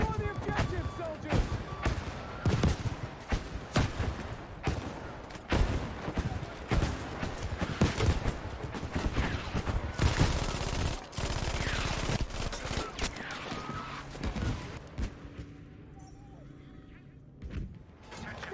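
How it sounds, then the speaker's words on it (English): Dense Battlefield 5 battle din: rapid gunfire and machine-gun bursts mixed with heavy artillery thuds over about fifteen seconds, loud and continuous, then dropping off sharply into quieter ambience near the end, with voices faintly under the combat. "we need an artillery barrage at this position"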